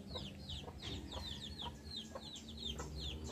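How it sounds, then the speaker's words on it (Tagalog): Soft repeated clucking from a hen in a short irregular series, with faint chirpy bird calls and low background hum. "Hindi yata may nangingitlog na manok."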